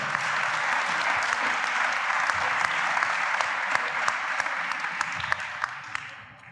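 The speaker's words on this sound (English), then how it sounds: "Give a big round of applause for Dr. Daniel Kundt from KoRo." An audience claps warmly in sustained applause, dense and even, tapering off toward the end.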